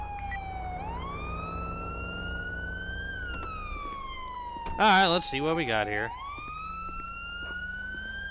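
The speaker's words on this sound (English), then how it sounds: "You have to sit there with your siren on" A police siren wails steadily in the video game Grand Theft Auto V with the LSPDFR mod, rising and falling in long sweeps, with a brief burst of yelping siren midway and someone speaking briefly.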